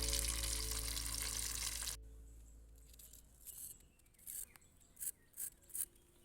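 Chicken pieces in hot oil getting a second fry for crisper skin: a loud, steady sizzle for about two seconds, then quieter bubbling crackle with a few short bursts.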